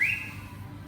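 Single short whistle blast during an exercise class, sharp and shrill at the start, then trailing off over a soft background hum with no talk.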